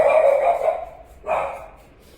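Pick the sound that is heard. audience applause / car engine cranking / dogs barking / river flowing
dogs barking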